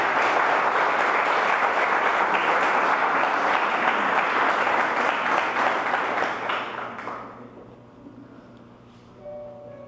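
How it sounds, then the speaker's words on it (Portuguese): Congregation applause at a church service, a dense, loud wash of many hands clapping for several seconds before thinning and fading out, with a brief voice near the end. "Dê uma salva de palmas para Jesus."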